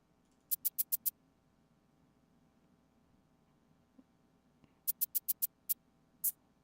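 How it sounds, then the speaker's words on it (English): Two shakers play together in quick bursts of rattles, a run of five fast shakes, a pause, then another run of five and a final shake, crisp and isolated over faint hiss. "so now together we add both shakers and it sounds like this"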